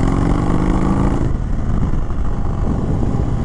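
A 2021 Indian Chief Bobber Dark Horse motorcycle engine roars loud and close, holding a steady droning note before shifting into a rougher, churning rumble, with no voices.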